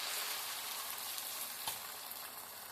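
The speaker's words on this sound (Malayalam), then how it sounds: "അതിനകത്തോട്ട് വെളിച്ചെണ്ണ ഒഴിച്ചിട്ട് അതിനകത്തോട്ട് നമ്മുടെ ഈ മുട്ട മിക്സ് ആഡ് ചെയ്തിട്ട് മുട്ട പൊരിച്ചെടുത്തു." An egg mixture fries in coconut oil in a pan, a continuous close hiss and sizzle with a faint tap partway through and no talking.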